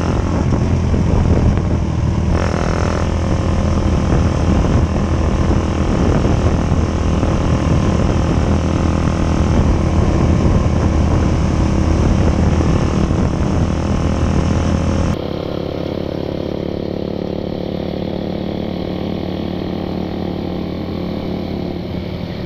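A Suzuki Satria FU motorcycle fitted with a loud racing exhaust roars steadily and close by, a dense continuous engine drone that drops slightly in tone and level partway through as it rides on, with no talk.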